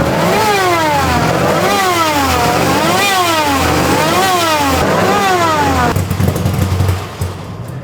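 A 90-year-old Mercedes race car engine revs hard and loud, surging up and down in about six quick rhythmic cycles before the roar cuts off and fades near the end.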